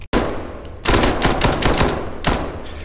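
Rapid automatic gunfire in the tactical horror shooter game SCP 5K, loud and close, with a sharp opening burst, a sustained stretch of dense firing and another burst near the end.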